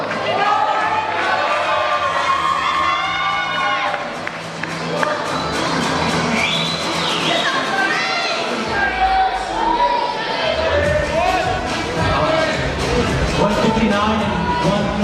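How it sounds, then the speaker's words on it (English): A crowd at a bodybuilding show cheers and shouts for contestants. Bursts of whoops and applause rise under and around a voice speaking over a microphone. "Again, if you see a number you guys like, cheer them on."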